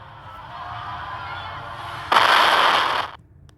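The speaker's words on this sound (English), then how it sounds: "Looks like explosions." Explosions in the ship-sinking video game Tiny Sailors World: a low rumbling build followed by a sudden loud burst of blast noise that holds for about a second, then cuts off abruptly.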